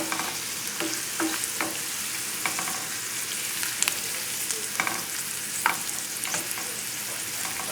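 Glazed radishes sizzle and fry in a pan as the liquid cooks down and the glaze turns sticky. A dense, steady crackle runs throughout, with occasional sharper pops and stirring scrapes, and no one speaks.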